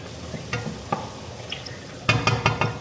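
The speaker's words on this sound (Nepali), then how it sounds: "म यसलाई एकछिन फ्राई हुनु दिन्छु है" Chow mein ingredients frying in a pan with seasonings, a continuous sizzle under several sharp clacks of a utensil against the pan, growing into a quick run of louder stirring knocks near the end.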